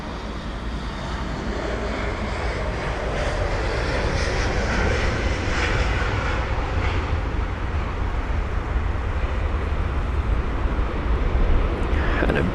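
A Lufthansa Airbus A320neo jet departing London Heathrow, a loud sustained engine roar that builds slightly and stays strong and continuous, close by, without any talking.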